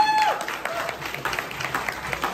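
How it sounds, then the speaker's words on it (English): Dancers at a packed dance competition applaud together after the prelims, a scattered clapping and cheering that carries through a noisy room with voices mixed in throughout. "just want to give a round of applause for yourself"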